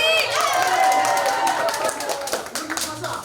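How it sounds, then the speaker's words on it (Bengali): An audience at an apartment Saraswati Puja celebration claps in a burst of applause, loud at first and then thinning into scattered claps, with voices mixed in. "সবাই জোরে হাততালি"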